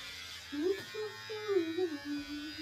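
Electric clippers shaving a person's head, a low buzzing motor that rises and dips in pitch as it drags through hair, fairly close and quiet, heard alone for a few seconds.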